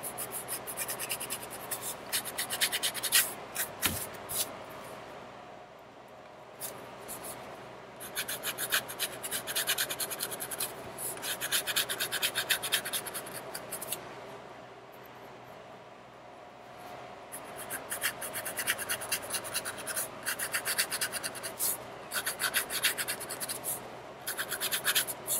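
A paintbrush dry-rubs brown paint over yellow on a fabric shopping bag, giving faint, close, rapid scratchy scrubbing strokes in bursts with short quieter pauses between them.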